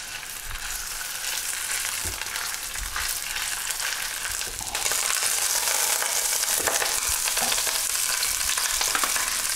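Pork shank sears loudly in hot olive oil, a steady crackling sizzle with occasional stirring scrapes, growing a little louder partway through.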